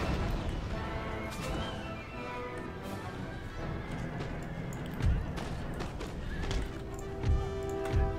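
Cavalry horses gallop in a battle in Empire Total War, a dense rumbling clatter of hooves with scattered thuds and heavier hits, loud and continuous throughout.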